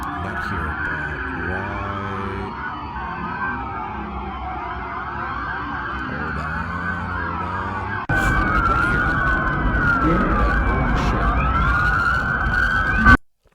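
Wailing police sirens from a line of cop cars in Miami rise and fall in overlapping sweeps, steady and loud, growing louder partway through before cutting off abruptly.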